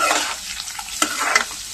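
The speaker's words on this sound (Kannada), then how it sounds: "ಆನಿಯನ್ನು ಚೆನ್ನಾಗಿ ಫ್ರೈ ಆಗಬೇಕು." Chopped onions frying and being stirred in a pan, with a steady close sizzle and a few sharp spoon scrapes against the pan.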